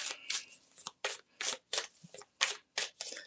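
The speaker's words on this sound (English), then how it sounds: "We not reading that because we just trying to shuffle." Tarot cards shuffled by hand in a steady run of quick, crisp riffling bursts, close and fairly quiet, with no talking.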